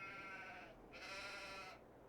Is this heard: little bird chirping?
no